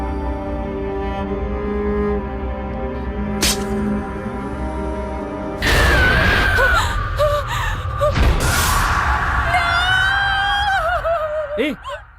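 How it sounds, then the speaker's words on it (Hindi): A woman screams after seeing a cockroach in a bachelor's home bathroom, high shrill cries rising and wavering over a steady background hum, loud and close, continuing in bursts for several seconds. "चिल्ला क्यों रही हो?"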